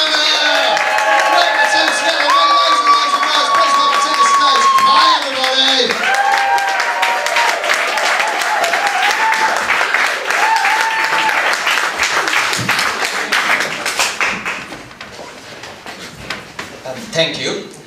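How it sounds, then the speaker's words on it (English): Loud applause from a comedy-night audience, steady dense clapping with some cheering and tonal background sounds, gradually thinning out toward the end. "can we have some clapping over here for this side?"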